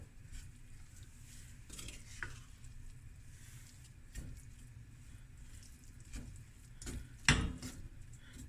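Biscuit mixture cooks in a pot while a spoon stirs it, making faint bubbling and sizzling with soft scrapes and occasional clinks against the pot, and one sharper knock near the end.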